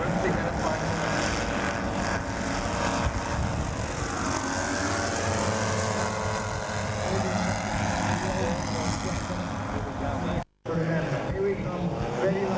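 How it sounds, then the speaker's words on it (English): Model airplanes at a Scottish model airshow fly low past the flight line in formation, a steady broad engine drone that swells and sweeps in pitch as they pass, with crowd voices faintly underneath and a brief dropout near the end. "Very spectacular, low down, fly past down the flight line, in formation"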